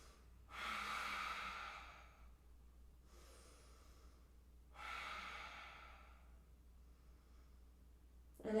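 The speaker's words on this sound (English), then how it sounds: "Taking a few breaths here." Slow, quiet breaths taken while holding an eagle pose in a yoga flow, three long exhales spaced a few seconds apart with near silence between them and no talking.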